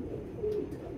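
A racing pigeon at a loft coos softly once, a brief low throaty call close by, with no voices.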